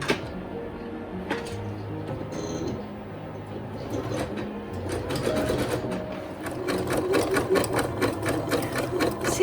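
A sewing machine runs a zigzag stitch along the edge of a scrap of calico, its rapid needle clatter steady and close, speeding up into a denser chatter toward the end with no speech over it.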